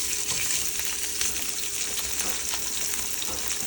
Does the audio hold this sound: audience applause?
no